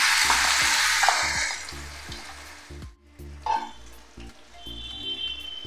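Masala spiced with Kashmiri chili powder and turmeric hits a hot pan for a potato curry, giving a loud burst of sizzling that fades while a spatula scrapes in a steady, repeating stirring rhythm.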